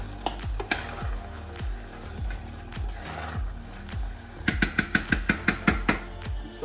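Vegan lasagne sauce sizzles and bubbles steadily in a hot pan, with a spoon stirring and scraping through it, then a quick run of sharp clinks and taps against the pan toward the end.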